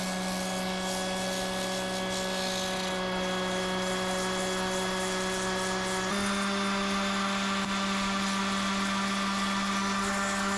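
An axe head being sanded with coarse 40-grit to strip rust and paint, a steady loud whirring power-sander drone that runs continuously and shifts pitch slightly midway, with no talking.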